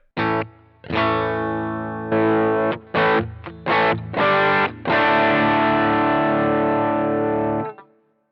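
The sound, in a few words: electric guitar chord strummed through Boss GT-1 patch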